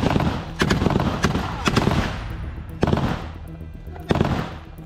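IWI Negev NG-7 machine gun firing in the Israel–Hamas conflict, four or five sharp, loud bursts spaced about a second apart, each ringing out briefly over a noisy background.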